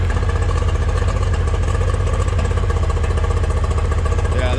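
An outboard motor idles on a repair bench with an ignition fault, one cylinder sparking only intermittently, producing a loud, close, continuous throbbing engine note with a slightly uneven beat.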